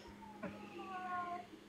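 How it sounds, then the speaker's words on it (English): A cat gives a short, fairly faint meow with a rising, wavering pitch, heard briefly outdoors near a house. "What's that cat doing?"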